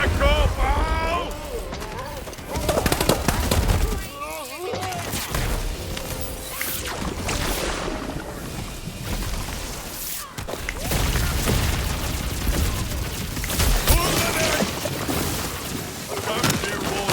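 Gunfire in Tiny Tina's Wonderlands, with bursts of shots, whooshes and booms under a continuous game music bed and character voices talking throughout.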